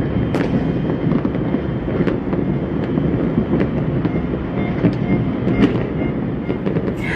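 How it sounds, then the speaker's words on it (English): Distant New Year's midnight fireworks over Makati, Manila, Philippines pop and crackle in scattered bursts over a steady, rumbling background. "The fireworks everywhere."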